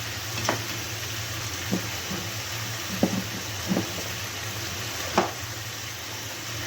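Chicken pieces sizzle in a pan over sautéed garlic cloves, a steady close hiss broken by a few sharp pops and clicks, with no talking.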